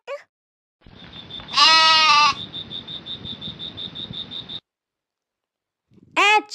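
A goat gives a loud, quavering bleat over a steady, pulsing background tone, and another short bleat sounds near the end.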